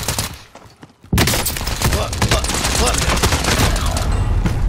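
Enemy gunfire in a battle royale video game erupts after a quiet second as a loud, dense barrage of sharp cracks that continues throughout. A player curses once over the shots.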